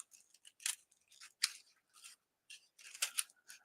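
Scissors snipping through journal binding cords, a series of quiet, crisp close-up cuts in an irregular rhythm, each a short crunchy snip, with no talk.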